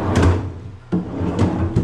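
Cabinet drawer in a renovated rowhouse unit being slid open and shut, a few close, loud wooden thumps and scrapes with no talk.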